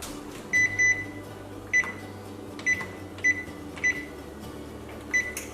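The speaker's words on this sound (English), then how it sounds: "So the next thing we need to do is we have to set our oven." An oven's control panel gives a series of short electronic beeps, about seven sharp chirps spaced irregularly as buttons are pressed, close and clear over a quiet kitchen hum.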